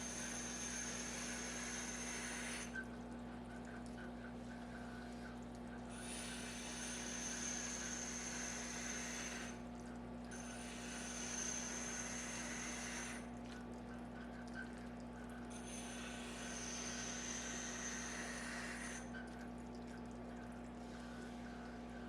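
A WEN wet/dry sharpening system's wheel turns through water with a steady low motor hum, and bursts of hissing, splashing grinding come and go in several separate stretches.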